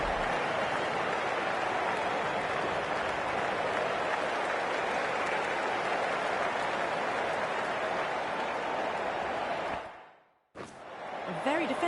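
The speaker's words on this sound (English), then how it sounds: "Please give him a round of applause." Cricket stadium crowd applauding an incoming Australian batsman at a T20 match, a broad, steady wash of clapping and crowd noise that holds loud for about ten seconds, then drops out abruptly before returning briefly.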